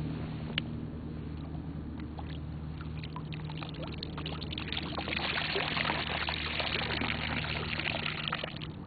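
Water scooped into a moose call is dribbled out into a pond to imitate a cow moose urinating, giving a faint, continuous trickling pour that grows somewhat fuller and busier in the second half.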